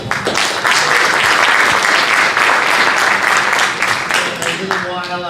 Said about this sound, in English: I would love everybody to give a wonderful round of applause for the Landis family